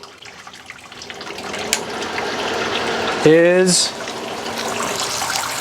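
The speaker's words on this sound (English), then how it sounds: "So we turned our pump back on" Water from a pump gushing through grain during the rinse stage of a home brewing system, a steady flowing rush that swells briefly midway; a voice speaks over it.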